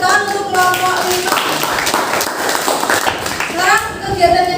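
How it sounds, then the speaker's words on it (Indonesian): Classmates clap for a student group after its classroom presentation, with steady, uneven hand claps and children's voices talking over and between them. "Beri tepuk tangan untuk kelompok 5"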